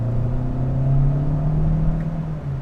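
The 1.6-liter engine of a 2020 Hyundai Sonata revs up with a steady buzzy drone, its pitch rising gradually and then easing slightly, heard from inside the car.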